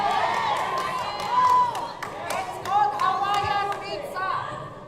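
A crowd at a live arts event shouts and cheers in a loud, overlapping burst of voices, with scattered claps rising and falling throughout.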